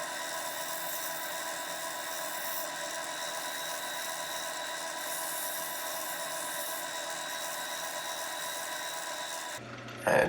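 A final cleanup cut along a wooden snowman turning on a lathe gives a steady, raspy scraping hiss over a constant machine hum, close and continuous, stopping abruptly near the end with a brief clatter.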